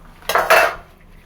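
A utensil scrapes and clatters twice in quick succession against a pan while tomato and chicken 65 masala are stirred, close and brief.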